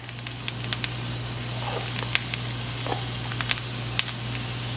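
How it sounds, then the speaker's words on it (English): Diced onion with salt and pepper sizzles alongside crispy potatoes in a skillet, a steady close frying hiss dotted with sharp pops and crackles over a constant low hum. "Then I'm going to go ahead and add in my diced up onion and some salt and pepper."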